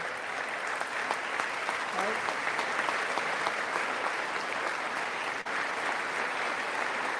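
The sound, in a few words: applause and clapping at the State of the Union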